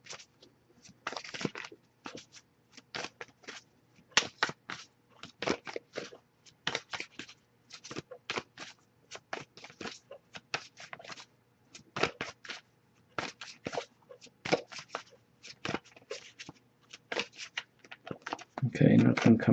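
Tarot cards being shuffled by hand, bursts of soft riffling and slapping in irregular rhythm, close and fairly quiet, with a person speaking at times.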